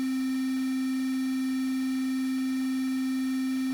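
A steady bit-crushed sine wave holds one pitch, gritty and distorted from downsampling and bit reduction, with a buzzy harmonic edge that continues unchanged at moderate level for nearly four seconds.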